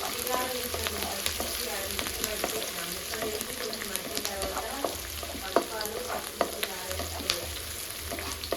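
Sliced onions frying in hot oil in a pan, with turmeric added, for a bottle gourd curry: a steady loud sizzle with scattered pops and occasional stirring clinks, no talking.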